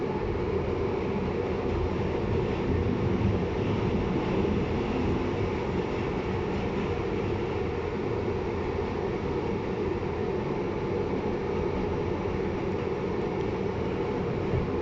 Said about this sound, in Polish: jedzie pociąg z węglem dla, dla kombinatu dawnego huty Lenina